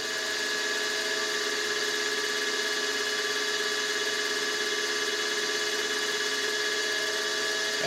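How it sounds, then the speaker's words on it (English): Milling machine cutter spinning and touching off the end of a part, a steady high-pitched whine with a constant tone held close and unbroken throughout. "Now I'm going to touch off the end with the cutter."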